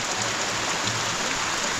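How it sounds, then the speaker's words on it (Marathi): Heavy monsoon rain pours down in a dense, even roar of countless drops drumming on surfaces nearby, steady and unbroken with no voices. "कसला पाऊस आहे काय माहिती पण मुसळधार पाऊस आहे चांगला"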